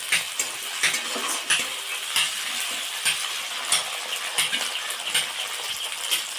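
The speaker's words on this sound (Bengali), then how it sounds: "আদা বাটা, জিরে বাটা দিয়ে আরেকটু ভেজে নিই।" Browned onion fries with ginger and cumin paste in a pan, sizzling steadily close by while a utensil scrapes and taps the pan in a repeated, uneven stirring rhythm.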